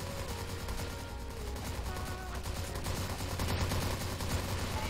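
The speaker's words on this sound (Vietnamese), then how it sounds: "Gắn cái silent vào bắn có vẻ êm hơn một chút đấy anh em ạ" A suppressed M14 EBR rifle firing in a video game, a rapid run of muffled, evenly spaced shots that carries on steadily throughout, fairly close, with no voices.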